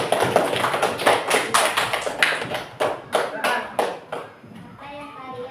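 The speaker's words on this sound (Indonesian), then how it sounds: "Kasih tepuk tangan dulu." A class of pupils clapping hands together in a classroom, a steady run of fairly loud, rhythmic claps over about four seconds before they thin out and trail off under a few voices.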